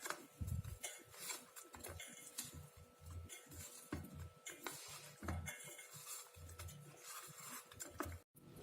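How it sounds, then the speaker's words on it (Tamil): Baby potatoes being stirred with salt and spice powders in a pot, a spoon scraping and knocking against the metal in an uneven continuous rhythm, close and fairly quiet. "உப்பு மற்ற எல்லா பொடியும் போட்டுட்டு இது எல்லாத்தையும் நல்லா கலக்கிக்கலாம்."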